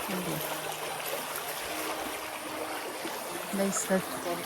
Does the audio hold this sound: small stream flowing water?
yes